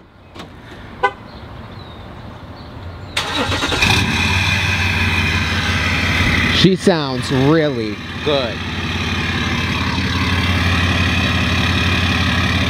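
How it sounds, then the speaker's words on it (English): A Chevrolet 1500 pickup truck in very clean condition cranks and fires up, then settles into a steady, loud idle close by, with a brief horn-like toot and people talking over the running engine. "you haven't heard the 1500 fire up yet"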